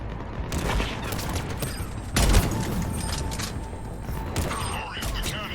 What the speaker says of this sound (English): Got him. Cannons initializing.